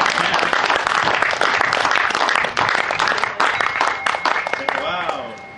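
Audience at a satsang theatre session in Arambol, Goa applauds loudly and densely, a sustained crowd of clapping hands that tapers slightly toward the end, with some voices mixed in.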